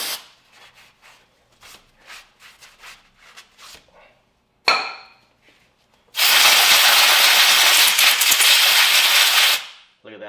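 Aerosol brake cleaner sprayed onto a Ford 6F50 six-speed transmission part near the driver's side axle seal, a loud steady hiss lasting about three seconds after a few light scraping taps, then cutting off.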